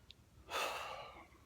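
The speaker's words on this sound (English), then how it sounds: "it's cold out here. I'm having a hard time breathing." A single labored breath in cold outdoor air, a breathy rasping gasp that swells and slowly fades, heard close and alone after a tiny click.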